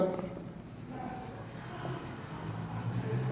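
Chalk or marker scratches across a board in short strokes during a maths lesson on rational numbers, with a teacher talking throughout.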